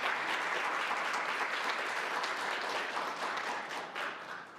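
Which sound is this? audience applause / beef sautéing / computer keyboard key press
audience applause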